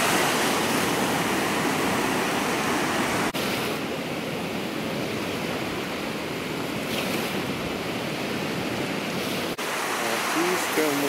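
Baltic Sea surf washing onto the beach at Šventoji, a steady broadband roar of breaking waves with wind noise throughout, brief dips near a few seconds in, and faint voices at the end.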